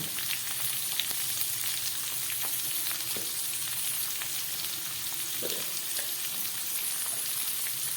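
Steady, close sizzling of potato, radish and papaya frying in a pan, a continuous crackle with occasional stirring scrapes and no voices.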